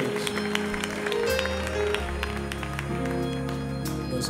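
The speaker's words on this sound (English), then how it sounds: "Come on, clap your hands." A church congregation claps along during a gospel praise song, the clapping sitting under loud organ, bass and singing that run steadily throughout.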